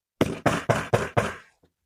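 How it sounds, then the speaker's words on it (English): Five sharp knocks on an office door in a university building, evenly spaced and close, ringing out alone before a faint trailing tap. "And John, a famous knock came at my door."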